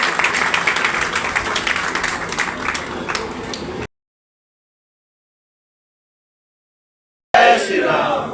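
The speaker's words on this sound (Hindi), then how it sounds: "इनकी जोरदार तालियों से एक बार स्वागत करें।" Crowd at a political election gathering applauds to welcome a newly elected committee, a dense spell of clapping that breaks into silence and then starts up again briefly.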